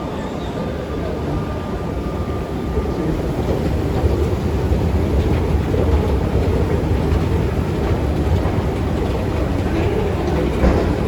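A train runs through Mansoura metro station with a loud, continuous rumbling roar and broadband rail noise that builds slightly midway, steady and close with no clear voices over it.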